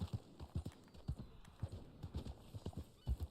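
A horse's hooves clip-clop at a steady trotting rhythm in the Red Dead Online video game. The hoof beats are faint and even, with no talking over them.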